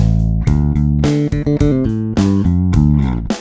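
Low plucked notes on a bass guitar ring out in a short, repeated pattern, each note sustaining briefly before the next, close and clear.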